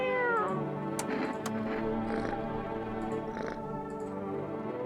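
A cat in the analog indie horror game No, I'm Not A Human meows loudly and repeatedly, several drawn-out cries close up with no talking.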